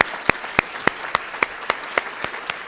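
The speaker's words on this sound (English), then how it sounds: "Let's have a round of applause for them." Slow, evenly spaced claps, about ten sharp distinct hits from a small group at an alumni reunion luncheon, close and fairly loud with no talk over them.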